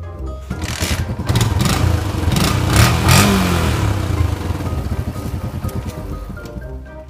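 Yamaha Exciter motorcycle, used as a farm bike, kick-started with the clutch pulled: a loud mechanical clatter as the engine fires, then a rough, steady idle rumble, close by.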